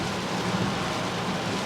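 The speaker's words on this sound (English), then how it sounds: "It's still raining." Rain falls steadily in the town of Reefton on New Zealand's South Island, a moderate, even wash of noise close by with no voices.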